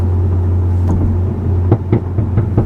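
Exhaust pops and crackles from a VW MK8 GTI, heard from inside the cabin with the back seats down, as a few sharp bursts over a steady low engine drone.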